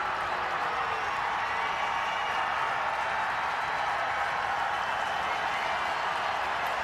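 A large college football stadium crowd at a Jacksonville State at Kentucky game roars in a steady, dense wash of cheering, distant and sustained without peaks or breaks.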